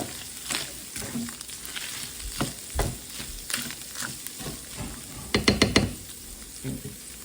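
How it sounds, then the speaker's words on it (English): Onions cooking in a teaspoon of fat in a pan, a gentle sizzle under repeated knocks and scrapes of a utensil, ending in a quick burst of rapid tapping, close by and with no speech. "So let the onions kind of cook for a sec."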